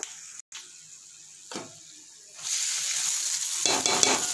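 Rice is stirred into a tamarind mixture for pulihora in a pan, quiet scraping at first, then a steady close frying hiss with spoon clicks toward the end; no voices.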